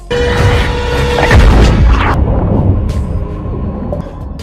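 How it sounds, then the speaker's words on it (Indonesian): A loud, rushing whoosh of a film missile launch builds into a heavy booming blast, followed by rumbling debris and crashing that slowly fades, with no speech. "menyelamatkan dia dengan sebuah tembakan rudal"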